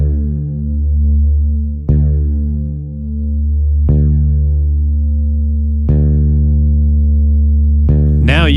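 Two bass guitar strings ring together during tuning, their sustained low tones pulsing in a slow beat that wavers in loudness, with a fresh pluck roughly every two seconds and no talking.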